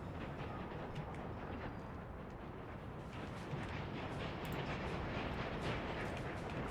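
A coal train runs in the Workers and Resources simulation game, a steady rumbling rail noise with faint clickety-clack, continuous and mid-distance.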